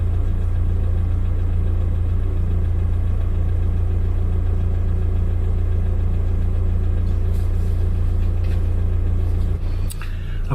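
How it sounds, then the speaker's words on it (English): A campervan engine idles steadily with a loud, even low rumble for about ten seconds, then the tone briefly changes near the end, with no voices. "I'm going to go round and start the engine and see how that affects things"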